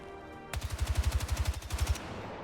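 A loud, rapid burst of automatic gunfire from a heavy-recoil gun in the video game Battlefield 6, about fifteen evenly spaced shots over a second and a half, ending in a short fading tail.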